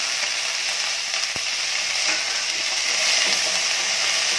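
Urad dal with dried red chilies and curry leaves crackling in hot oil for Kerala sadhya koottucurry, a steady, dense, close sizzle throughout with no talking.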